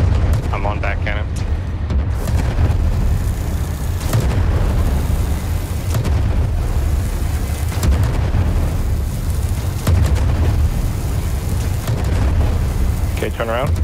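Airship cannon fire in the video game Worlds Adrift: a steady barrage of heavy booming blasts that blur into dense, rumbling noise, with players talking over the gunfire throughout.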